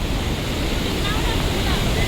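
Pressurised water surges from an open gate at Isapur Dam, a loud, steady, broadband roar that fills the whole stretch without pause, close to the listener.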